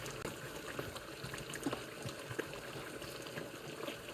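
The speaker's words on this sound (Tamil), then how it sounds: "எல்லாம் தக்காளி பெப்பர் எல்லாம் போட்டு அந்த மாதிரி கொதிக்குது" A pot of tomato and pepper mixture simmers at a rolling boil, giving a steady, dense bubbling and gurgling that carries on throughout at low-moderate level with no voices.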